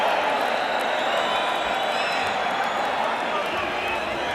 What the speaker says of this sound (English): the crowd is applauding the courage of Steve Zouski as much as they're applauding the efforts of Mike Tyson